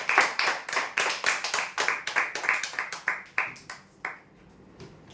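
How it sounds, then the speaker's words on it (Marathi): An audience at a lottery draw applauds the winners with a quick run of loud, evenly spaced hand claps that gradually thin out and fade toward the end. "जोरदार टाळ्या मुलांसाठी"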